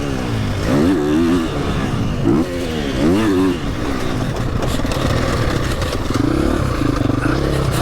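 A motocross motorcycle fitted with an enduro or MX silencer rides a track, its engine rising and falling in repeated revving sweeps as it accelerates and brakes through corners, loud and close throughout.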